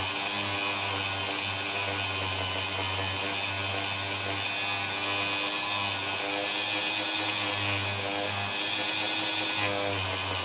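A spinning polishing wheel strips anodizing and oxide residue from a metal part, giving a steady, loud motor whine with a low hum and constant grinding hiss throughout, with no voices.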